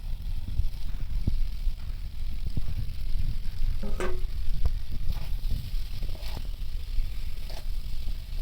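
Egg fritters drop into a simmering potato curry in a pan and get stirred, giving a steady low bubbling sizzle with a few soft scraping and clinking touches, close and moderately loud, no talk.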